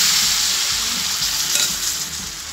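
Strained homemade ghee hits a hot pot on the stove and gives a steady, close sizzle and crackle that continues alone throughout.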